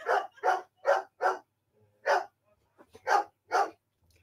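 A dog barks about seven times in short, loud, close bursts, a quick run of four followed by spaced single barks, indoors during a live stream with no talking over it.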